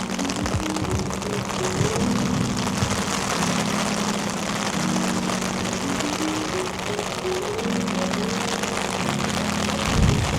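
Steady rain from a tropical storm fills a Miami Beach street scene, with a low engine-like hum droning underneath throughout.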